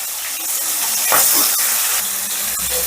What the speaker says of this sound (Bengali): প্রথমে আমি 2 টুকরো দিলাম। এই 2 টুকরো ভাজা করে নিয়ে তারপর বাকি 2টো ভেজে নেব।